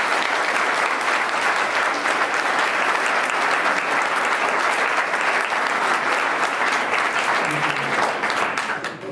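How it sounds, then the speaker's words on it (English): Steady, dense applause from an audience at a land trust's annual meeting, sustained at full strength for the whole stretch and tapering slightly at the very end. "I'd like to give one more round of applause for this."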